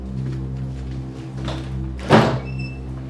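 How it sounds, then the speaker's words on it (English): A cabin door opens with a single heavy thunk and brief scraping rattle midway, set against a steady low hum, near and moderately loud. "Fine, I'll open the door"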